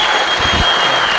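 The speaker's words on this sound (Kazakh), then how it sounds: "Қаттырақ шапалақтарыңыз." A stand-up comedy audience claps loudly and densely in a short, sustained burst of applause.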